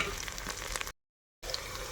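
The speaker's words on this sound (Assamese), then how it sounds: "তেল গৰম হৈ গ'ল এতিয়া ইয়াতে দিম পিঁয়াজ এইখিনি এতিয়া অলপ ভাজি" Onions fry in hot oil in a home kitchen with a steady, dense crackling sizzle, heard close up and briefly cut to silence midway before resuming.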